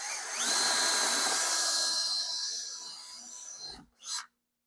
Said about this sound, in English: I've marked where I need to drill a hole for that wire to go through.